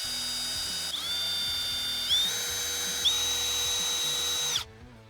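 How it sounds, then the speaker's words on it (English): A power drill bores holes through a door sweep, its high whine starting, stopping and restarting in several short bursts before cutting off, close and alone. "Make sure that you do not move the sweep as you're drilling it."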